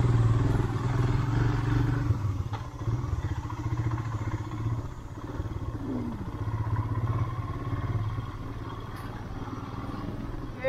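A motorcycle rides a rough, rocky mountain road, its engine droning steadily up close while scattered clattering knocks from stones striking the underside break through the low rumble.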